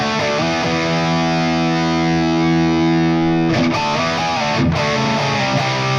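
Distorted electric guitar played through a Fractal amp modeler with floor reflection set near zero, sustained chords ringing loud and alone, with a brief break and re-strike near the end.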